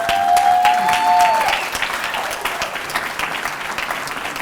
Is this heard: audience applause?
yes